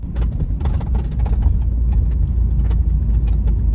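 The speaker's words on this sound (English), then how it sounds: "I'm also aware you can probably hear a very rattly BMW." A rattly imported BMW car drives along with a loud, steady low road rumble, while metallic rattles and clatter tick irregularly over it.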